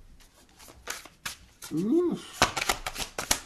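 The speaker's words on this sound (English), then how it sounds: "Let me shuffle." Tarot cards being shuffled by hand, giving a series of crisp, close riffling and tapping bursts with short pauses between them, while a voice briefly exclaims partway through.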